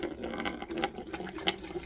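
Water is poured into a container fitted with a tube, a short, close, uneven splashing trickle with small gurgles.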